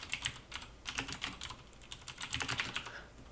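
Brisk typing on a computer keyboard, a quick run of close, crisp key clicks at a steady pace with short pauses, no voices.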